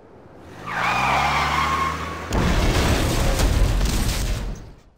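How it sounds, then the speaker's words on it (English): Car crash in The Simpsons: Tapped Out video game: a rising engine whine and tire skid, then a loud crunching impact with scattered debris rattling that fades out. "One heck of a crash."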